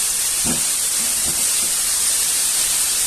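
Chicken teriyaki frying in oil with seasoning gives a steady, close sizzling hiss throughout, with a couple of faint low bumps early on.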